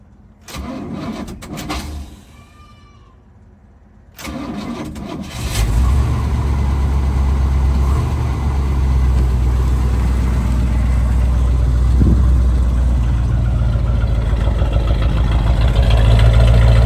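Old abandoned GMC big block Squarebody truck engine running on old gas, cranking briefly, then catching about four seconds in and settling into a loud, steady, rumbling idle close by.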